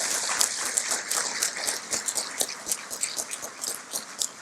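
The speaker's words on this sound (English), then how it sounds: "So again, let's give it up again and give them a big round of applause." An audience at a teacher of the year awards gala claps steadily, a dense crackle of many hands that thins slightly toward the end, with no voices over it.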